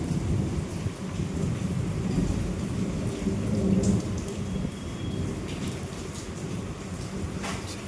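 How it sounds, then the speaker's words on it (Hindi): Heavy rain pours down during a strong storm, with a constant dense hiss of drops on surfaces and rumbles of thunder rolling underneath, steady and loud throughout. "गाइस बरसात आ रही है बहुत तेज"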